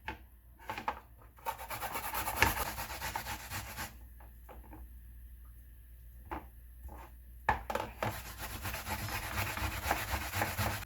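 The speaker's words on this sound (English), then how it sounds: "I'm going to grate the green bananas." Green bananas are grated on a hand grater in bursts of close, rough rasping strokes, with a short pause in the middle before the scraping picks up again.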